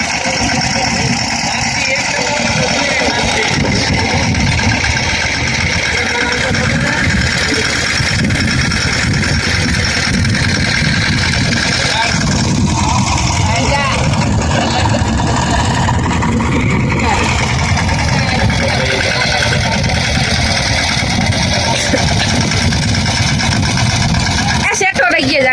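A tractor engine runs on a chickpea farm, a continuous mid-pitched drone that holds steady throughout, with voices talking over it.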